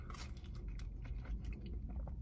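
Quiet, close bites and chews into a pizza slice with a crunchy yet doughy crust and chunky marinara, soft crunching and squishing repeating over a couple of seconds with no talk.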